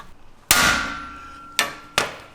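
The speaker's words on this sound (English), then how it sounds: "and hit it with a hammer." A hammer strikes a pry bar set on top of a Jeep Wrangle bump stop extension to pop it on: one loud ringing metallic clang with a long decay, then two sharper hits close together.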